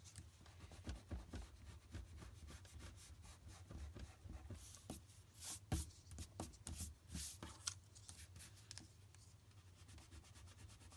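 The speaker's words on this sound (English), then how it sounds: "And now you can erase that line." An eraser rubs out a pencil line on paper with quick, faint back-and-forth scrubbing strokes in a steady rhythm, quiet and close, with no voices.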